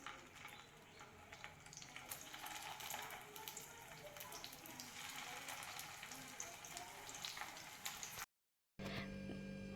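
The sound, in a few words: corn cutlets frying in a pan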